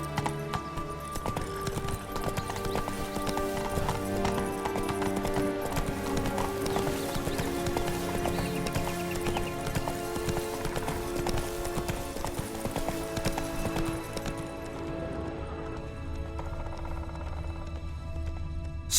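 Roach, the horse in The Witcher 3 video game, gallops with loud, rapid, rhythmic hoofbeats that carry on for a long stretch before easing slightly near the end.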